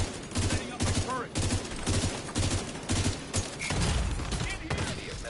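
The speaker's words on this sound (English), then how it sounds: "Setting up my turret." An automated turret in The Division 2 firing rapid, rhythmic bursts of shots, loud and close, in repeated pulses, with voices speaking intermittently over the gunfire.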